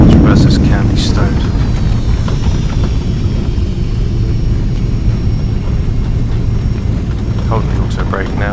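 A Boeing 757-200 in the X-Plane 11 flight simulator roars with thrust reversers active after landing at Manchester, a loud, steady low rumble with a voice talking over it.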